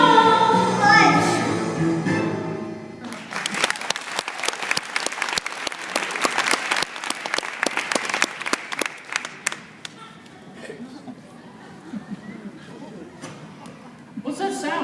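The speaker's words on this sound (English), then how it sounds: "That's just those wretched people from the farm playing ball." Crowd outside at a ball game applauding and cheering, a dense wash of clapping that swells in after a few seconds, holds loud, then thins to scattered claps before a final burst.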